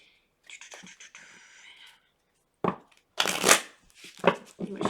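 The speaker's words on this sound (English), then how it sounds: "I'm going to shuffle it a little bit more just to make sure we're getting accurate things" Tarot cards are shuffled by hand up close, first as a fluttering riffle, then in several quick rough bursts of slapping and sliding cards.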